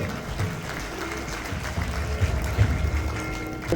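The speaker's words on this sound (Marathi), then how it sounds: "टाळ्यांचा गजर देखील तितकाच मोठा अपेक्षित आहे श्रेयस सरांच्या या स्वागतासाठी" An audience breaks into steady, dense applause to welcome actor Shreyas Talpade at an event in Satara, with the clapping swelling slightly toward the end and no talk.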